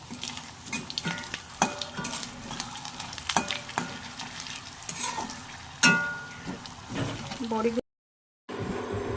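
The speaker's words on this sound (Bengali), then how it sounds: "মাছ ভাজা তেলে বড়িগুলো ভেজে নেবো" Lentil badi fry in oil already used for frying fish, with a crackling sizzle broken by sharp utensil scrapes and clicks, then a brief cut before the frying resumes.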